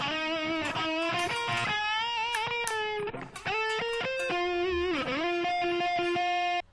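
An electric guitar plays a melodic lead line with sustained, ringing notes and bends, washed in reverb and echoing delay.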